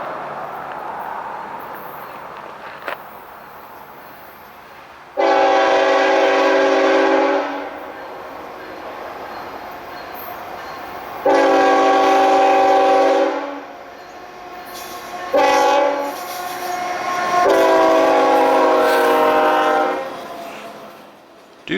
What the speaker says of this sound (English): At 1412, Conway to Allentown Mixed Freight Train 10K continues eastbound with Wells Fargo Leasing